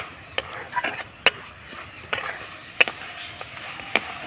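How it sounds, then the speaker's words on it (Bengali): Jaggery and grated coconut filling for pitha being stirred in a pan with a spatula, heard as irregular sharp taps and scrapes close by, with no talking. "নাড়াচাড়া করে আমি পুরটা তৈরি করে নেব।"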